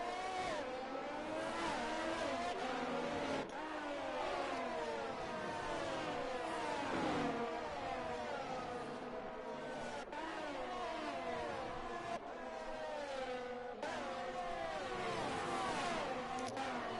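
Formula 1 cars from an F1 video game, including a Ferrari, a Haas and an AlphaTauri, race at the Hungarian Grand Prix with steady high-pitched engine whine that rises and falls through gear changes, loud and continuous with no talk.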